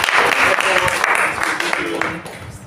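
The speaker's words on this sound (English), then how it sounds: "Can you give yourself a round of applause?" Graduates at an academy convocation ceremony applaud themselves in a loud, dense round of clapping that fades slightly toward the end, with some voices mixed in.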